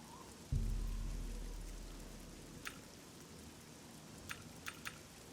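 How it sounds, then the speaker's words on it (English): Rain falls steadily in The Elder Scrolls IV: Oblivion, a soft, constant patter of drops beneath a deep booming hit at the start that slowly decays, with a few faint sharp clicks later on. "Oh, it's raining."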